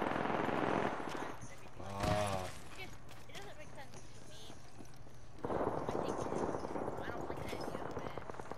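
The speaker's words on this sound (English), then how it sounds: "Look, all five squads are shooting." Rapid bursts of automatic gunfire from several squads in a battle royale video game, crackling in short volleys at the start and again near the end, with players talking over the action.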